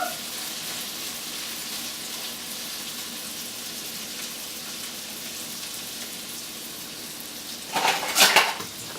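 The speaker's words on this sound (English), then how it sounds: "throw this nice juicy steak into this pan" Steady, fairly quiet sizzling of a steak frying in a pan, with a short clatter of utensils or pan movement near the end.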